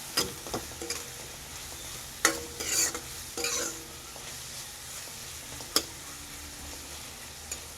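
Salted onion cooks gently on a low flame, giving a faint, steady sizzle broken by a few sharp spatula clicks and brief stirring scrapes, close but quiet, with no one talking.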